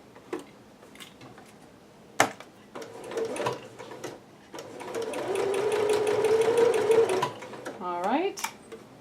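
A sewing machine running a basting stitch on a Butterick 6322 dress, a steady fast mechanical whir for a few seconds between clicks and handling noises, with someone talking around it.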